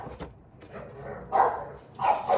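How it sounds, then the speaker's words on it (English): Dogs play and let out a few short barks and yips from close by, with quiet pauses in between. The sounds are scattered rather than steady. "Now the dogs are playing down under again."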